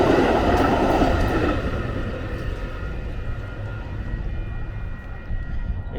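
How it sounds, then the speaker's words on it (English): A Metra commuter train rolls past in Mt. Prospect, a loud, close, steady rumble of wheels and cars on the rails that eases slightly as it continues, with no talking. "It's exciting to get videos of METRA Trons."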